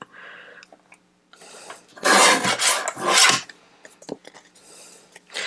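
Greeting card paper is trimmed with a cutting tool, giving a few seconds of close, raspy scraping in two loud bursts, with quiet handling noises before and after.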